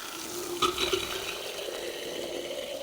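Water rushes out of a pressurized whole-house filter housing, a brief gush followed by a steady hissing drain, fairly quiet and close.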